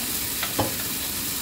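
Garlic, onions and tomatoes sauté in a pan with a steady close hiss, broken by one or two brief scrapes of a spoon; short and unaccompanied by voices.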